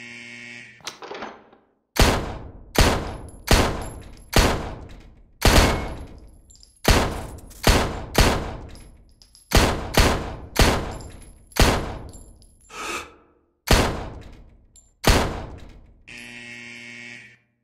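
Gunshots ring out while shooting targets in the video game World of Shooting, about a dozen sharp, loud reports spaced roughly a second apart, with a buzzer tone at the start and end.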